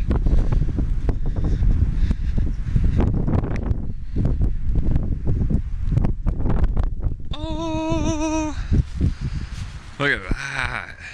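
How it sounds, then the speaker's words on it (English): Strong wind buffets a microphone in heavy low rumbling gusts, with a voice talking and brief tonal sounds near the end. "It is a windy day"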